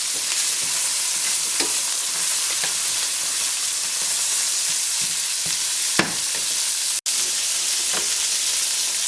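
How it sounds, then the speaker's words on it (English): Vegetables sizzling in a pan for braised beef short ribs, a steady close frying hiss with scattered spoon scrapes and one sharp clack near the end. "give this a nice little stir"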